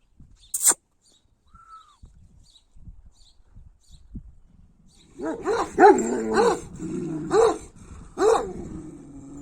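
A female Kangal dog barks several times close by, the deep barks coming in an uneven run after a quiet stretch with a few faint sounds.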